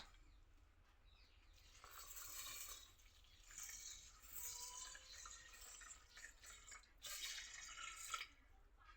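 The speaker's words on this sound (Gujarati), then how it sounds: "હવે હું પાણી રેડું છું અંદર" Water poured into a cooking pot for khichdi, a soft, quiet splashing and filling with a few drips, with no voices.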